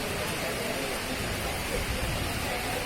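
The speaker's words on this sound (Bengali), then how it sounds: "অঝরে বৃষ্টি হচ্ছে।" Heavy rain pouring steadily at a railway platform during a storm, a dense, continuous hiss of downpour filling the whole clip at an even level with no clear breaks.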